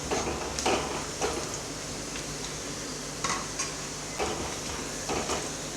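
Garlic fries in oil for a dal tadka with a soft, steady sizzle, broken by a few light clinks and scrapes of a spoon against the pan.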